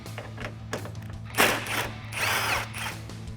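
Mechanical ratcheting and clicking from a 10mm socket as it takes out the side headlight bolt on a RAM 1500 pickup. Several short bursts sit over a steady low hum, with one sharper burst near the middle.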